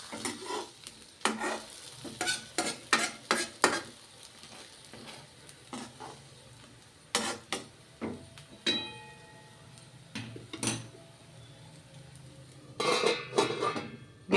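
Vegetable handvo frying in oil in a pan, with a soft steady sizzle under repeated clacks and scrapes of a spatula turning it, the sharp utensil hits coming in clusters.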